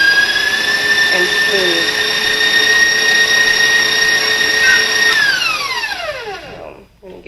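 An electric mixer beating a peanut butter and cream cheese pie filling: a loud, close, steady motor whine that holds for several seconds, then winds down and stops. A voice speaks briefly at the start.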